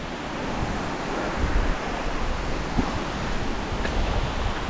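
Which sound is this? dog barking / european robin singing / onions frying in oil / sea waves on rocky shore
sea waves on rocky shore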